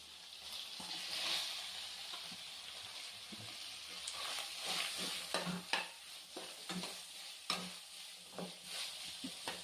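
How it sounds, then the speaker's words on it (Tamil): Onions sizzle softly in a pan while a utensil stirs and scrapes in irregular bursts, close up and fairly quiet. "இப்போ பாதி வெங்காயம் வதங்கிடுச்சு"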